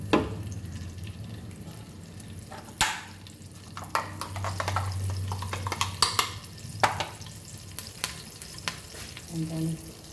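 A tadka of curry leaves and hing crackles in hot oil in a pan for peanut chutney: a close, continuous sizzle with sharp pops and stirring clatters breaking through.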